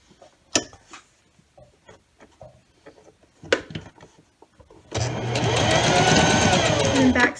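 Sewing machine stitching fabric for a sewn snake, starting with scattered clicks and handling knocks, then a loud, steady mechanical running whir for the last few seconds.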